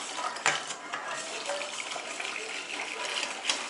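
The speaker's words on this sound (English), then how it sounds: "I'm just gonna pour this back into our milk and coconut mixture." A gelatin mixture is poured into a milk and coconut mixture and stirred, giving a close, steady wet swishing and pouring sound with a few light clinks of a utensil against the bowl.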